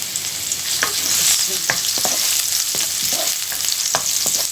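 Ginger and garlic pieces frying in a pan over high heat give a loud, continuous hiss, broken by scraping stirs and a few sharp crackles.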